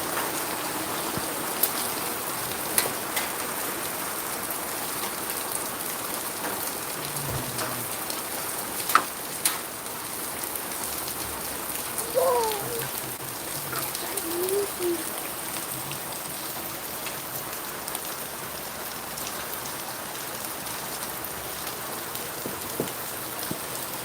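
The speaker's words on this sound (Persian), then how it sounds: "بچه امروز 9 جولای و اینجا رومانی و ما تگرگ" Hail falls in Romania on a July day, a dense, steady hiss of pelting ice with scattered sharp taps, continuous and fairly loud, with a faint voice briefly in the background.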